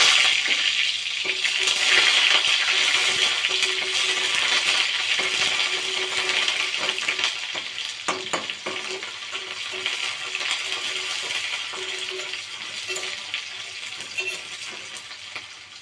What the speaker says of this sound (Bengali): এবার দিয়ে দিয়ে পেঁয়াজ।